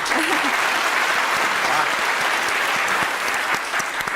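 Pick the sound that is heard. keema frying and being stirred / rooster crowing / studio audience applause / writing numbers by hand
studio audience applause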